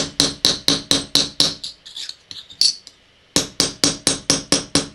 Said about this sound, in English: or change to the face of a chasing hammer